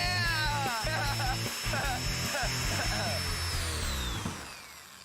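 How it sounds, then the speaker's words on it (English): A power drill spins a wheel with a loud, steady whine that holds level and then winds down toward the end, with people talking over it. "we're gonna make the wheels spin even faster using a drill"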